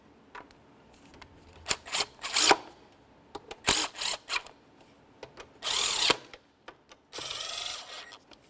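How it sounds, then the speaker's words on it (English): Throttle body bolts on a 2005-2010 Chevy Cobalt being tightened and torqued, heard as bursts of ratcheting and clicking tool noise of varying length with short pauses, close and fairly quiet, with no speech. "we'll torque each of them to 89 inch-pounds"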